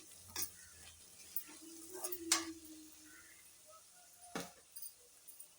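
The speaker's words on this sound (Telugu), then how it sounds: "చూసారా, 2 మినిట్స్ తర్వాత కొంచెం వేగినాయండి ఆనియన్స్ అనేది." Onions fry quietly in a pan, with a faint sizzle under a few soft stirring scrapes and light taps of a spoon against the pan.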